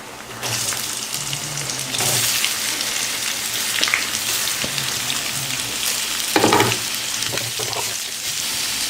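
Onions sizzle and fry in hot oil with ginger garlic paste, green chilli and curry leaves for egg varuval, a steady close crackle with louder bursts as the pan is stirred.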